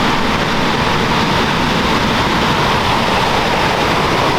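A steady, loud, broadband roar of rushing water fills the whole stretch without a break, close to a powerful waterfall powering a hydroelectric dam at Mammoth Spring State Park.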